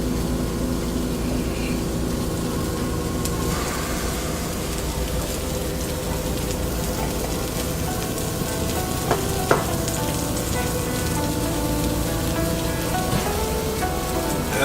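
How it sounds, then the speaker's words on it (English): Halved radicchio heads sizzling cut side down on a grill turned up to 450 degrees, a steady loud crackling hiss with occasional pops throughout. "to grill these, you want your grill as high as it's gonna go, because you really want to get them nice and charred"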